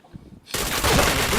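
Video game gunfire bursts in abruptly after a short quiet lead-in, a dense, loud, sustained rattle of automatic shots close up that fills the rest of the moment.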